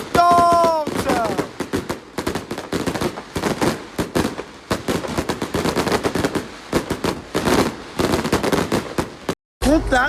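Fireworks at the Les Ardentes festival burst in a rapid, crackling barrage of sharp bangs, loud and dense like gunfire, with voices audible in between.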